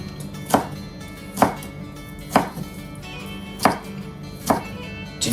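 A knife slices fresh tanigue fish crosswise on a board in five evenly spaced chops about a second apart. Each cut lands as a crisp, close thud with quiet room tone between strokes.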